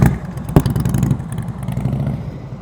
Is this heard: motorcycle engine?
yes